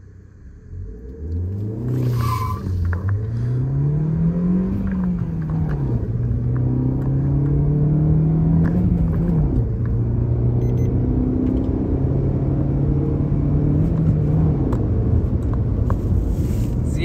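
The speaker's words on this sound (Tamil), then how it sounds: "பெட்ரோல் வேரியன்ட்ன்றதுனால அந்த பிக்கப்பை ஓட்டுறதுக்கே செம்மையாயிடுச்சு காரு." A petrol Maruti Suzuki Swift engine starts up and accelerates hard, its loud close rumble climbing in pitch through several gear changes over a sustained pull.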